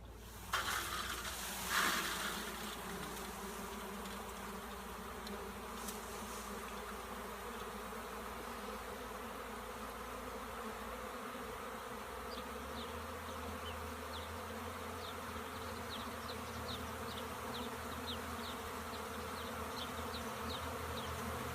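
A honey bee swarm hums steadily as the bees march into a hive, a dense, continuous buzz close by, with a brief louder rustle near the start and faint high chirps later.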